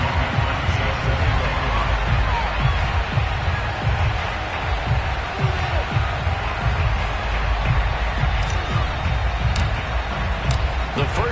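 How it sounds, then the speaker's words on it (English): NFL stadium crowd before a Denver Broncos vs Dallas Cowboys game, a constant roar of cheering and hubbub that fills the space at steady loudness, with a commentator talking over it. "This crowd is ready as their guys get set to match up between the Denver Broncos and the Dallas Cowboys"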